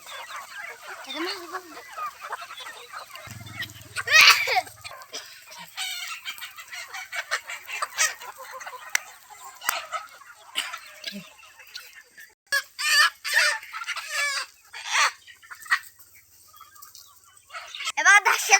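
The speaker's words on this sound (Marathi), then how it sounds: "कोंबडा आहे." A rooster crows repeatedly alongside clucking and other fowl calls, fairly close, with a brief low rumble early on.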